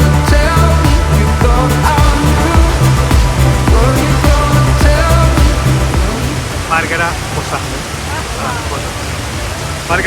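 An Icelandic waterfall on a sunny, very windy hike day roars as a steady, loud broadband rush throughout, with people talking and calling out over it.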